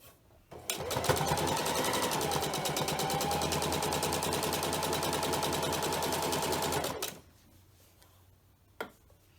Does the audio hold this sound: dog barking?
no